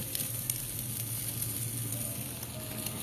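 T-bone steak sizzling on a hotel grill: a continuous close crackling hiss with small pops, steady and fairly loud throughout, no talking.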